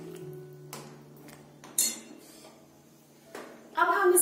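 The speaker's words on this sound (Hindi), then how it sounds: "यहाँ पे मैंने ये 200 ग्राम मटर के दाने लिए हैं, इनको डाल देंगे, इसको मिक्स कर लेंगे।" Two hundred grams of green peas go into a pan of masala for matar paneer and are stirred in. A few scattered metallic clinks and scrapes of a spoon against the pan sound close by in a quiet kitchen.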